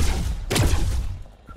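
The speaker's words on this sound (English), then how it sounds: "Dang, I hear a lot of gunshots and no hits." Gunfire in the multiplayer ghost-hunting video game Midnight Ghost Hunt: a single sharp, loud thud-like shot bursts out near the middle, decaying into a rumbling tail, with a steady background bed around it.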